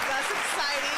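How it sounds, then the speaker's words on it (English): Audience applause on a live podcast stream, a short burst of clapping and cheering that fills the whole moment at steady loudness. "Round of applause for that, man."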